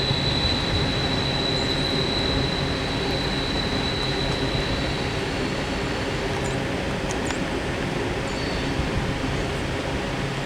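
A long freight train of ore cars rolls past at the Horseshoe Curve, a steady heavy rumble of wheels on rails with a thin high squeal, continuous and unbroken.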